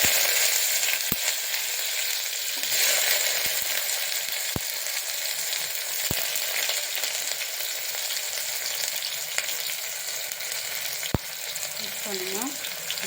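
Onions fry in hot coconut oil for a vegetable pulao, giving a steady, close, crackling sizzle with occasional sharp pops and stirring clicks throughout, and no talking.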